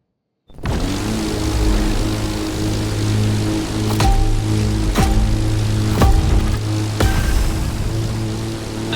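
A propeller plane's engine during takeoff in The Crew Motorfest, a loud continuous droning hum with steady harmonics and periodic sharp pulses, starting abruptly after a short silence.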